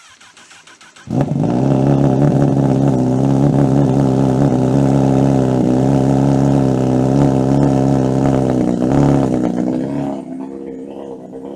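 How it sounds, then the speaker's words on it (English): A Honda CB1000 Hornet SP motorcycle with a loud Ixrace M8 slip-on exhaust cold starts suddenly and settles into a loud, deep, rumbling idle with a raspy exhaust note, then drops slightly lower near the end. "the cold start of this motorcycle"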